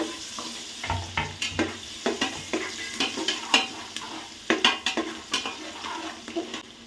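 Garlic and green chillies fry in a pan for egg biryani, with a steady sizzle under irregular scraping stirs and light clinks of the spoon against the metal, close and fairly loud, with no voices.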